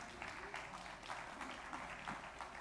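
Faint scattered applause from a church congregation during a sermon, soft uneven bursts of clapping rising and falling at a distance.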